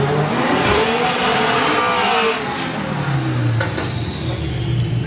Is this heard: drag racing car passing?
yes